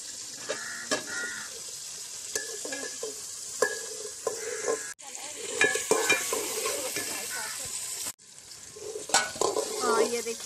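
Chopped onions sizzle loudly in hot ghee for biryani, a dense crackling hiss broken by clinks and scrapes of a spoon against the pot, with two short pauses in the frying noise.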